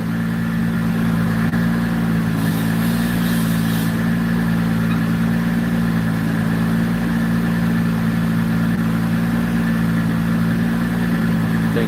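A car engine running hard on a dyno, a loud sustained drone with steady harmonics held throughout the pull, with a brief higher hiss partway through.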